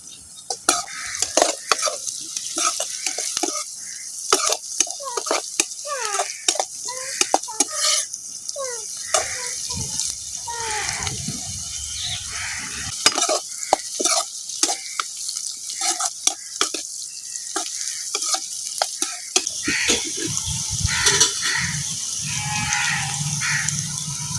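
Green chili dropped into a crab masala cooking in a pan, a loud continuous sizzle and fry with frequent scraping and clattering stir strokes, the frying surging louder toward the end, no talking.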